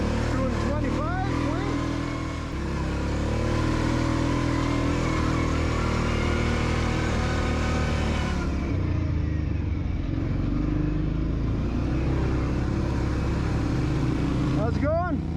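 An ATV climbing a steep trail in Crowsnest Pass, Alberta, in four-wheel drive and high gear at about half throttle, a steady moderate engine drone with wind rush throughout, while someone talks over it.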